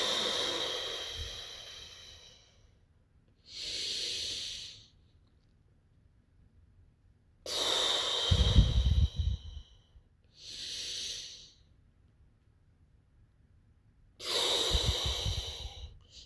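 Deep, forceful breaths during an isometric muscle-flexing exercise, five long hissing inhales and exhales in an uneven rhythm with pauses between, close and fairly loud, with no talking.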